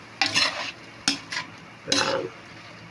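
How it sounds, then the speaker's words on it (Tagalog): Laing of taro leaves frying in pork fat and coconut milk is stirred in a pan, with a few separate scraping strokes and bursts of sizzle close by and no talking. "sa haluin natin, lakas natin ng konti para medyo napiprito-prito yung"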